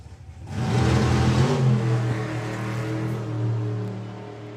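A drag racing car launches down the track at an FIA Main Event meet, its engine rising into a loud, sustained roar that climbs in pitch and then holds as it pulls away.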